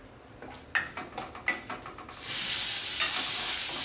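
Mustard seeds, urad dal, cumin and a dried red chilli crackle in hot oil, first with several sharp stirring scrapes, then settling into a loud, steady, close sizzle.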